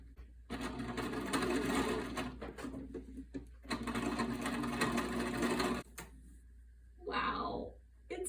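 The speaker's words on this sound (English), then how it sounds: "I tested a couple of different zigzag stitches to see which one I would need." A sewing machine runs test zigzag stitches in two long bursts of steady mechanical whirring, each around two and a half seconds, followed by a short quieter mechanical whir.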